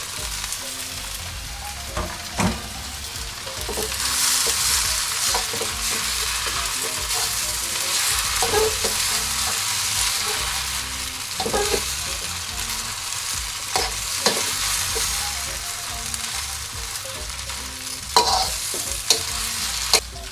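Rice noodles with shrimp stir-fry in a wok for a Chinese sweet and sour dish, a steady loud sizzle broken by repeated scraping and tossing clatters of the spatula, with no talking.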